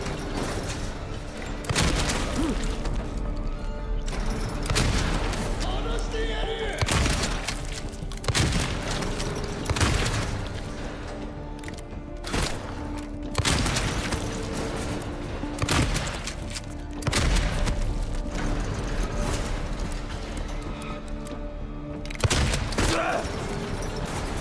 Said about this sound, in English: Okay, shotgun will destroy it.